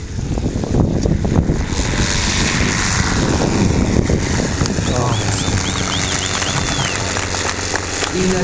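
A PT-17 Stearman biplane takes off, its loud propeller engine roaring up close over wind buffeting, with a voice talking faintly underneath.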